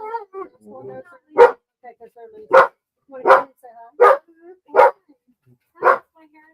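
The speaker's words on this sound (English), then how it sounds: "Yes, the dog's barking." A dog barks six times in sharp, separate bursts, loud and close, while people talk between the barks.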